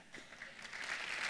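Church congregation applauding together during a worship service, a steady wash of clapping that builds slightly toward the end, moderately loud and continuous with no talk over it.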